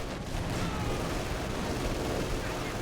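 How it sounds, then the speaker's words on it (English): Battle sounds in Company of Heroes 2: a dense, continuous wash of gunfire and rumbling explosions, loud and busy with no pauses. "It's a lot of pretty explosions."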